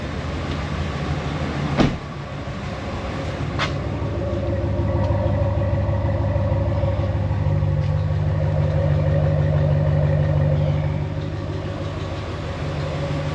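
A HEMI V8 car engine idles steadily, a close continuous low rumble with a slight swell in the middle and a couple of brief clicks near the start, no talking.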